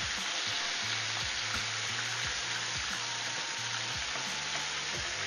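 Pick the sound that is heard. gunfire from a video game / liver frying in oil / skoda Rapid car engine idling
liver frying in oil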